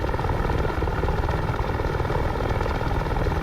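Helicopter rotor and turbine engine from the DCS flight simulator, a steady loud whirring chop with dense low thumping held throughout, no voices.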